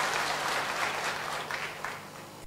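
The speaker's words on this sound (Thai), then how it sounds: "ขอเสียงปรบมือดังๆให้อาจารย์ค่ะ" Listeners at a Thai volunteer training session on helping disabled people applaud a lecturer, giving a moderately quiet, continuous wash of clapping that tapers slightly toward the end.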